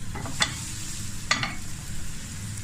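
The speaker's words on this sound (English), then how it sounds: "Melt in the butter, melt in the pan." Butter melting in a pan over low heat, a soft, steady sizzle with two brief utensil clicks against the pan, no talk.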